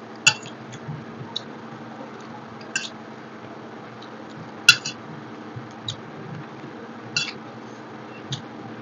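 Someone eats rice and dal with boiled pumpkin by hand, giving soft, wet squishing and occasional sharp clicks of dishes at irregular intervals over a quiet room background.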